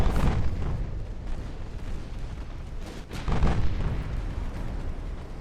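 Naval gunfire and shell impacts in the warship game Ultimate Admiral Dreadnoughts: a steady rumble of heavy booms and bursts, with a loud blast early on and another swell around the third second, no talking.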